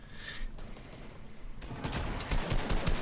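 Sniper fire rings out in a Fortnite solos match, a burst of sharp gunshot cracks in the back half after a quieter stretch of game ambience, with no talk.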